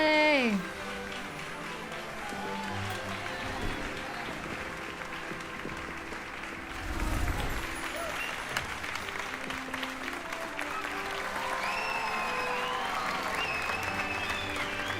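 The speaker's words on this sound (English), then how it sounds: "Why are the Gryffindors cheering so much when I'm placed in Ravenclaw?" Gryffindor students in the game Hogwarts Legacy cheer and clap in a sustained, lively round of applause over background music.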